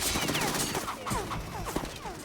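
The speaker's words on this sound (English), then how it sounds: "the AKS-74U is the submachine gun, I think, which means, like, low accuracy at best" Rapid automatic fire from an AKS-74U submachine gun in Metal Gear Solid 2, several short bursts crackling through a dense, busy game soundscape.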